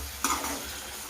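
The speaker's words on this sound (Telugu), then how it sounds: "ఈ టమాటా కూడా బాగా ఫ్రై అయ్యేంత వరకు కాసేపు మూత పెట్టేసేయండి." Two tomatoes sizzle in a pan of frying masala for soya chunks biryani, a short steady hiss that opens with a quick stir and clink of a utensil against the pan.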